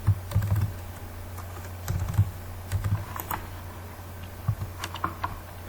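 Keys clatter on a computer keyboard in short irregular bursts of taps, close and fairly crisp, with brief pauses between groups and no talking.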